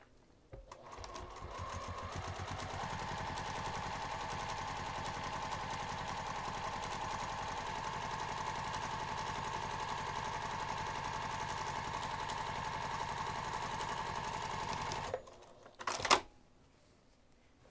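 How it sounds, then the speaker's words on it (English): A sewing machine top-stitches the pressed edge of a fabric craft bag at an eighth-inch seam allowance, whirring in one steady, close run of about fourteen seconds before stopping with a few clicks. "we're going to top stitch this pressed edge using an 1/8 inch seam allowance"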